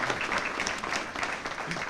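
Brief, steady applause from a gathered crowd for senior services staff at a nutrition site grand opening, many hands clapping evenly at a moderate distance.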